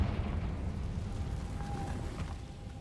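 A Confringo fire spell bursts in Hogwarts Legacy on PS5, a sustained rumbling explosion with a brief ringing tone partway through, loud and continuous throughout.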